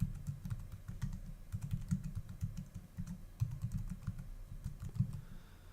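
Someone types on a computer keyboard: a steady run of soft, close keystroke clicks with short pauses between bursts.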